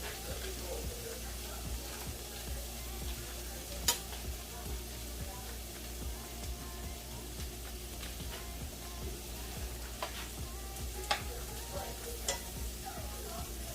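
Vegetables cooking in butter in a frying pan, a steady close sizzle throughout with occasional sharp clicks of a utensil stirring against the pan.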